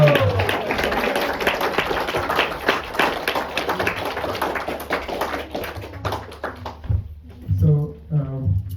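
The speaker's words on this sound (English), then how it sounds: "let's give a big round of applause one more to Chaitanya." An audience claps for several seconds at a talk event, a dense patter of many hands that thins out toward the end, with a voice over it.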